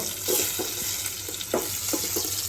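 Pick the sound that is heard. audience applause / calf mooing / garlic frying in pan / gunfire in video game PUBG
garlic frying in pan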